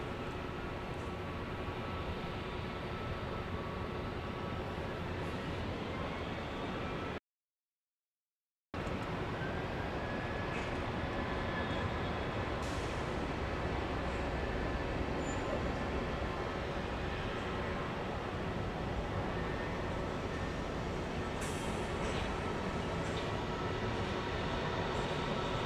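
United Airlines jet taking off from runway 15 right at Houston Intercontinental airport, a faint distant steady engine rumble building slowly, broken by a short gap of silence.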